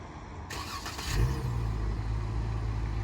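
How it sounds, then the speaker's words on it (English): The engine of a 2021 Dodge Charger GT cranks and catches on a remote start, then settles into a steady low idle that carries on to the end, alone and with no talk. "we can just remote start the charger."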